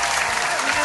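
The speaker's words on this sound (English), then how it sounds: "Round of applause, everybody." An audience claps loudly and steadily at a Miss Philippines Earth 2022 pageant event, a dense continuous burst of applause filling the whole moment.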